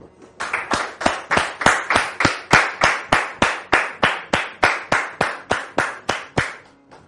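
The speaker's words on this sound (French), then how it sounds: "maintenant sous vos applaudissements." An audience claps in unison to welcome a guest at a French-language gathering, sharp rhythmic claps at a steady beat of about three per second, loud and even, repeating for several seconds with no speech.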